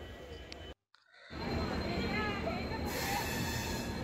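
The Coromandel Express pulls into a station with a loud, steady rumble and rattling wheel noise. A brief dropout comes early in the clip, then the train noise continues under voices nearby.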